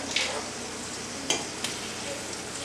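Garlic cooks in a pan of olive oil and butter with a steady, close sizzle and a few soft clicks from a utensil.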